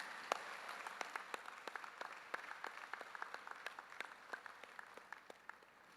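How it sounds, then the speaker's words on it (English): Audience applause at a university convocation ceremony for graduating students: a fairly quiet, steady patter of many hands clapping with sharper individual claps standing out, heard from some distance and tapering slightly toward the end. "can we all join together in giving a lovely round of applause to our brilliant graduating students"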